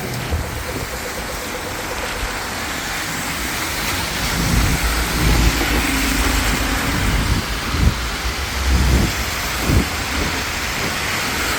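Rain falls in a steady, dense hiss during cold bad weather, with low rumbling traffic or engine noise underneath and a few soft thumps, continuous throughout.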